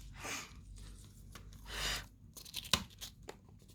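Adhesive plastic film is peeled off the packaging of QCY T5 earbuds, making quiet, close tearing and crinkling bursts with a few sharp snaps, some soft breaths between them.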